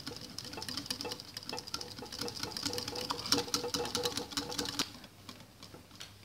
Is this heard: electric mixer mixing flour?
yes